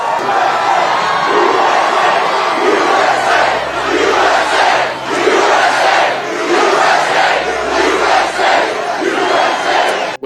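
A large political rally crowd chants in steady rhythmic bursts, a loud, dense roar of many voices filling the space throughout.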